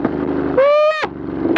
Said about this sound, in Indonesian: Pas auto bliper knalpotnya langsung nembak anjir.